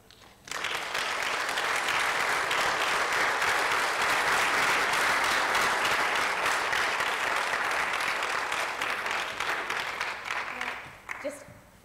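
Steady, loud applause from a large conference audience after a keynote fills the room for about ten seconds, then fades out quickly.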